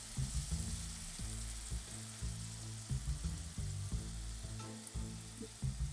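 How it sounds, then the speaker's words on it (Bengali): A little water goes into a pan of fried onions for a duck egg curry, and a steady bubbling sizzle follows, broken by soft low knocks and scrapes of stirring throughout. "এখানে অল্প একটু পানি দিয়ে দিব যাতে পুড়ে না যায়,"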